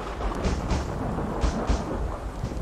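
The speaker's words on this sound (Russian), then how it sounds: "Тут так хорошо слышно дождь." Steady rain hiss with low rumbling, rainfall ambience from a horror video game, a continuous wash with faint thunder-like swells and no voices.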